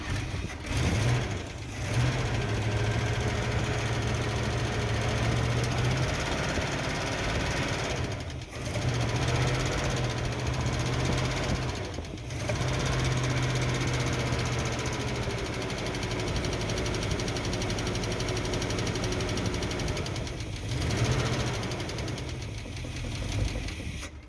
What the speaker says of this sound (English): it sounded like a rod was hitting the side of the engine